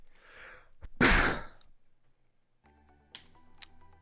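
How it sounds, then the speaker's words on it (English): A single loud, close sneeze bursts out sharply, preceded by a breathy intake and followed by quiet with faint music-like tones resuming. "My finger moved while I was sneezing."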